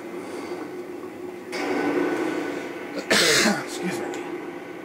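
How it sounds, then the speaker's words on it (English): A man with a cold coughs once, sharp and close, during a game, after a stretch of indoor background murmur. "I have a bit of a cold, so I'm coughing like a madman"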